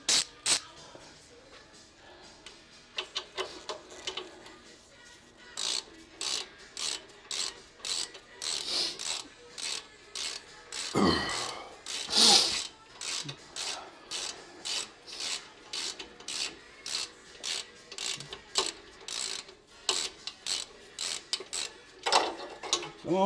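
Ratchet with an 18 mm socket clicking in quick repeated bursts while tightening brake parts on a Jeep JK, close and crisp, with short pauses and a brief metallic scrape between strokes.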